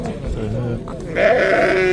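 Fat sheep at a livestock market in Manas district, Talas, with a loud, close bleat rising near the end over crowd noise and people talking nearby.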